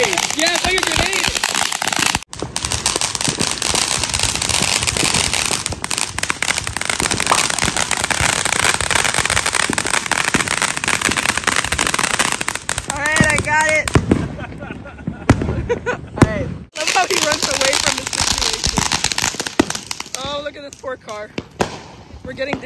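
Backyard consumer fireworks, including grenade-style firecrackers, burst in rapid crackling volleys with sharp pops, loud and near, while excited family voices shout and cheer over and between the blasts.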